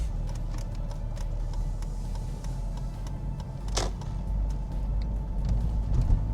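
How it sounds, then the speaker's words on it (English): A BMW X3 20d SUV, which has a jerkiness problem, drives along a road with a steady low engine rumble and road noise inside the cabin, moderately loud and continuous, with a brief clicking sound partway through. "let's take it out to my road that I can test drive this"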